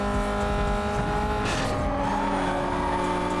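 A car in the racing game Need For Speed: Most Wanted accelerates hard, its engine droning loud and close with rising harmonic tones, and a brief burst of tire noise partway through.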